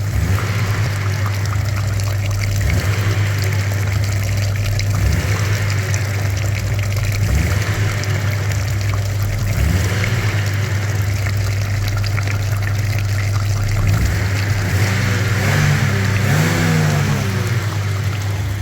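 A Daewoo Lanos engine idling loudly with a steady low hum while water gurgles and trickles through its dirty cooling system during a flush, continuous and close, with no speech.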